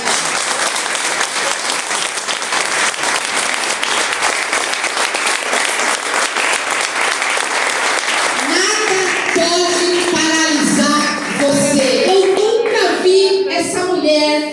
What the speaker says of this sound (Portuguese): Você pode aplaudir o Senhor pela vida?